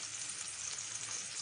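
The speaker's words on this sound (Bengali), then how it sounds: "এবার এই খোলা অবস্থাতেই সুন্দর করে লাল করে ভাজবো" Bottle gourd and peas for sukto sizzling in an open pan, a steady, soft hiss of frying oil without pauses.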